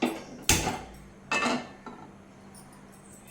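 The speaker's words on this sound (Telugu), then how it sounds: "ముందుగా ప్యాన్ పెట్టుకొని స్టవ్ ఆన్ చేసుకోవాలి." Metal pan set down on a kitchen stove before frying prawns, two sharp clanking knocks followed by a fainter tap, close and alone in a quiet room.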